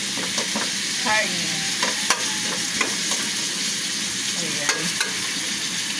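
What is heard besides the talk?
stirring meat in a frying pan for kaldereta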